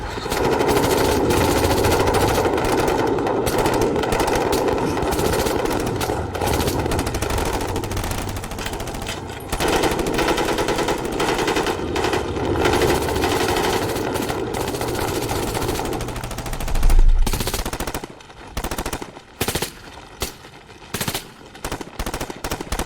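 Sustained loud automatic machine-gun fire in an action thriller firefight, a dense continuous roar of rapid bursts that breaks into choppier separate bursts toward the end.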